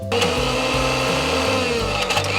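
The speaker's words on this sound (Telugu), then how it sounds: "వేసేసి ఇప్పుడు ఇది కూడా ఒకసారి మిక్సీ పట్టాలి." A mixie grinder blends soaked, deseeded tamarind with tempering for a cucumber and coriander chutney, a loud, continuous motor whir with shifting tones and no pauses or talking.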